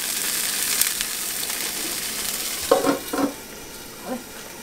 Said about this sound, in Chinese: 花生又炒出来的很香了